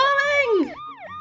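A toy ambulance siren wails with sweeping up-and-down tones during a LEGO Friends hospital scene, loud and close, the pitch sliding down then rising again in quick repeated cycles, with no talking over it.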